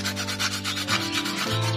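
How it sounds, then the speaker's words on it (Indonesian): Coarse sandpaper scrubs steadily back and forth over a coconut shell being prepared for a twin-coconut bonsai, a close, rhythmic rasping that repeats quickly over a faint steady hum. "Sini kita mengamplasnya menggunakan amplas yang"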